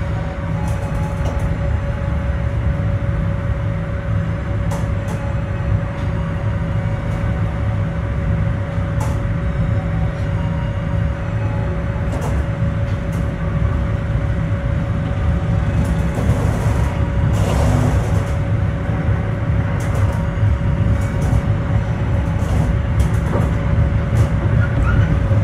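Steady rumbling ride inside the Gajah Wong executive train running behind schedule at night, a constant low drone with a faint steady tone and occasional clicks and rattles of the carriage, no talking.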